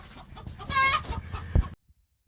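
Two-week-old light Brahma chicks in an indoor coop, clucking and chirping close by in a short burst with a few soft thumps, then silence.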